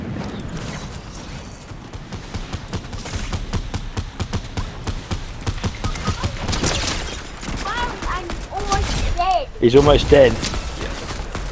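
Rapid bursts of gunfire from the video game Fortnite rattle on through the clip under steady talk, with mechanical clicks and a louder cluster of shots near the end.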